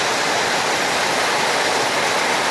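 Floodwater from a flash flood rushes through a yard in a loud, dense, unbroken roar like a waterfall, close by and with no voices.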